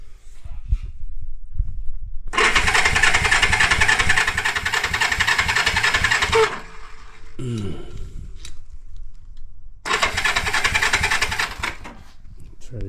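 A 1973 Honda CB350G motorcycle engine, unstarted for over ten years, cranks over in two loud rhythmic bursts separated by a quiet pause, with a voice speaking in between.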